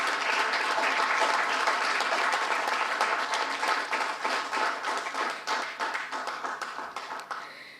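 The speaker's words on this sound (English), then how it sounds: "Can we have a huge round of applause for all our seniors?" Loud crowd applause for seniors at a corporate IndianOil Day celebration holds steady, then thins into more distinct individual claps as it gradually fades toward the end.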